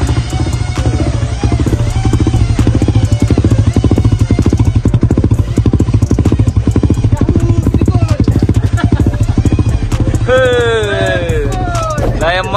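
A Suzuki Raider 150 Fi motorcycle with a stage 1 upgrade runs close and loud, its engine pulsing in a rapid, throbbing idle throughout, with voices talking over it near the end.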